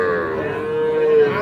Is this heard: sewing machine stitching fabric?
no